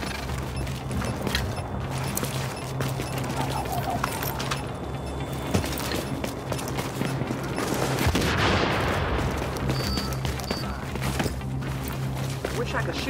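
Rapid gunfire from Tom Clancy's The Division on hard mode, with dense bursts of automatic shots and scattered single cracks continuing throughout, loud and layered with game effects and a swelling blast near the end.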